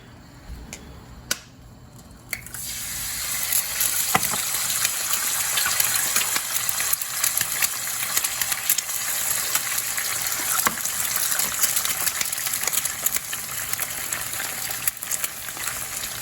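Egg whites cook in a hot pan after a ten-mile run, a steady loud sizzle that flares up after a quiet start and holds on continuously with faint crackles.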